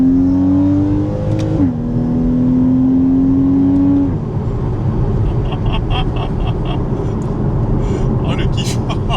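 Porsche 981 Cayman flat-six engine pulling hard at full throttle, rising through the revs to a shift near the midpoint, then a continuing loud roar with road and wind noise inside the cabin.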